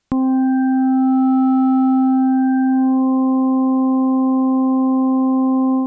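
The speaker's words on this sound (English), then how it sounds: "We can modulate the harmonic parameter, which is how this LFO is set up by default, but now we're doing it with a different rate, depth, and shape." Steady synthesizer tone blended toward its electronic side, with an LFO sweeping the harmonic parameter so the overtones shift and shimmer over a constant fundamental, loud and alone.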